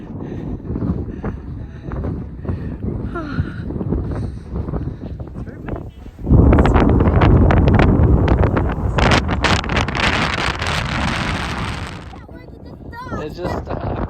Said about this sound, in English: It was quite windy when we were there.